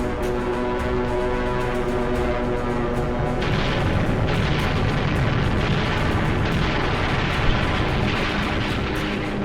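Bombs exploding during the Pearl Harbor attack form a dense, continuous barrage of booms and crackling bursts, loud and unbroken throughout, growing heavier partway in.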